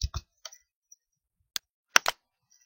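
Close, quiet clicks of a computer mouse while opening a folder come as a handful of isolated taps with pauses between them, some in quick pairs.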